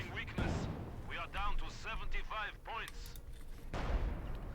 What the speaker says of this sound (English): And another artillery barrage into the base.